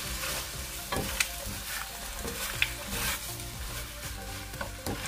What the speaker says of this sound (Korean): 바글바글 끓으면 마늘종을 넣고 중강불에서 볶아주세요.